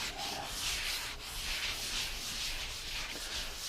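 A 320 scuff pad rubs continuously over a glazed wood finish, giving a close, steady dry scratching hiss with no pauses and no voices.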